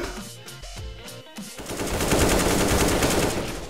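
Rapid automatic gunfire in the game CS:GO, a dense continuous burst of shots that swells louder midway through, following a brief stretch of game sounds, with no voices.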